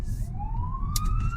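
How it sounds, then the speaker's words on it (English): Ambulance siren passing outside, a steady rising wail audible behind the room, fairly clear at moderate distance with a brief burst of noise near the end. "Sorry, that's the ambulance."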